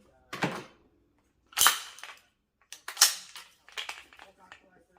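An AR-15 rifle gets a safety check with the magazine pulled and the action worked, giving four sharp close metallic clacks and rattles spaced over a few seconds in an otherwise quiet room.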